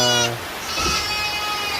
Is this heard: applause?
no